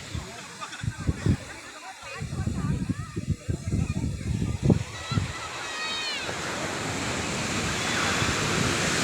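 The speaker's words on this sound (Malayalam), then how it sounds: "കടൽ തീരത്താണ് കേട്ടോ." Waves wash onto a busy Kerala beach, first under several people talking, then building into a steady, rising roar of surf.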